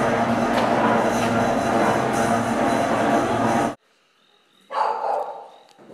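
Several dogs bark at night. A dense, loud burst of barking stops abruptly, and after a brief near-silence a single nearer bark or yelp is heard.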